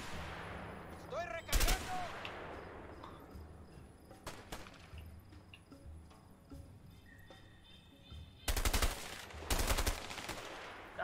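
Enemy gunfire in the game A Way Out, sharp separate shots spread through the scene, loudest as a pair of bursts near the end, with faint background activity and no talk.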